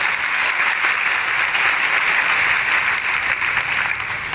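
An audience at a public talk in Kanpur claps loudly, a dense and even burst of applause that carries steadily throughout with no voices over it.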